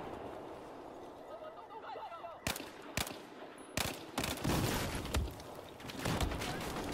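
Rapid video game gunfire and an XM25 grenade launcher, with sharp loud bursts of shots cracking in quick succession over a dense background of battle noise.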